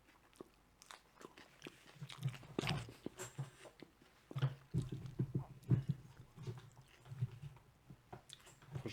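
Eating a pasta salad of twisted noodles with three cheeses and fromage blanc: close, irregular chewing and soft crunching bites run steadily throughout, with a few sharper bites and no talking.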